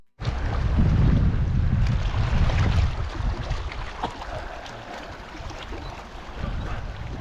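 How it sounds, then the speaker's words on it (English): Gusty wind buffets the microphone in low rumbling bursts on a mountain trail near Emma Lake, strongest early on and easing off before picking up again. "It's a bit windy up here though."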